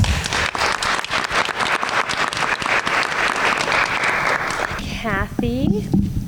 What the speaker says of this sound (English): Please a warm applause for Jane Hansberry.